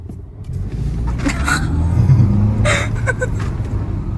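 A 300 hp Audi A5 Avant with no tune, driven in dynamic mode on Dutch roads, heard from inside the cabin as a continuous low engine drone with road noise. The engine rises slightly in the middle and holds steady.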